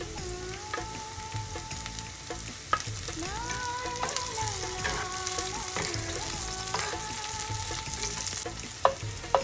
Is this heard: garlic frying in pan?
yes